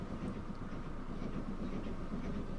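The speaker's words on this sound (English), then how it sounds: "There's the train that goes to Bristol." A train rumbles along in the Transport Fever 2 rail simulation on a UK map, with a steady rolling drone and a soft rhythmic clatter that continues evenly and unbroken.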